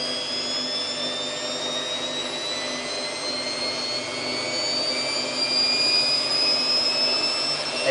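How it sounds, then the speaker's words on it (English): Samsung WF8804RPA Diamond washing machine in service cycle mode, drum spinning up toward 400 rpm with a steady rising whine and broadband whoosh, fairly loud and continuous, with pitch slowly climbing and intensity swelling near the end. "Let it spin. It comes up to 400."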